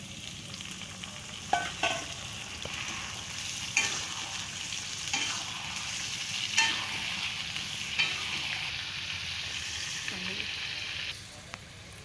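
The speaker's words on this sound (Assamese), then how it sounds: "এতিয়া মই মাংসখিনি ঢালি দি আছোঁ।" Meat tossed into a pan with sizzling onions fries with a steady soft hiss, while a spoon scrapes and knocks at intervals during stirring; a fairly quiet kitchen scene without clear talking.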